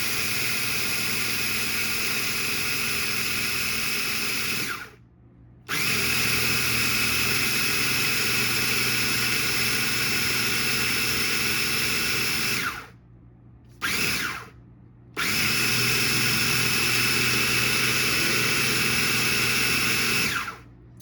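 A grinder milling rice into fine flour, a loud continuous high-pitched motorized whine that cuts out briefly a few times and restarts, with no talk.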